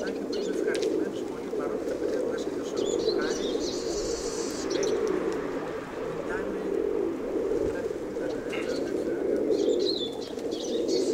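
Many pigeons coo continuously in a low, throaty chorus, with occasional chirps and wing flutters mixed in, close and steady.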